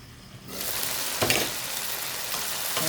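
Chicken frying in a pan at home, a low hum that suddenly swells into a loud, dense sizzle and crackle after half a second, with a sharp clatter just past one second, then steady frying noise, no talking.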